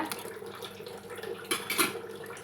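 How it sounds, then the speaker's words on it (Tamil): About a cup of water is poured into a pot while ghee is being made, giving a steady splashing, trickling wash with a couple of brighter gushes near the end, close and moderately quiet. "நான் ஒரு கப் அளவுக்கு தண்ணி சேர்த்திக்கிறேங்க"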